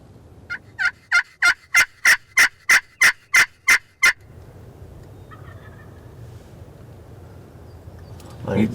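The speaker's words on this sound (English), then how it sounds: "He's gobbling at everything. He's gobbled." A wild turkey gobbles on Kansas public land in a rapid burst of about a dozen loud, evenly spaced notes, followed by quieter outdoor background noise.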